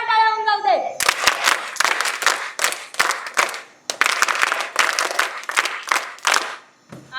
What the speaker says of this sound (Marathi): त्यामुळे एकदा स्वतःसाठी जोरदार टाळ्या होऊन जाऊ दे